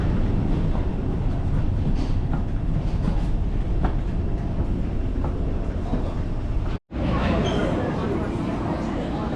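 A metro train in Dubai rumbles and rattles steadily from up close, with a brief cut near the end, and voices talk over the ride.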